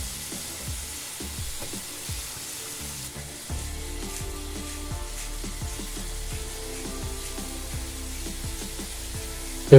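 Salmon pieces sizzle steadily in a hot pan, a continuous crackling fry with small spattering pops, close and alone without talk.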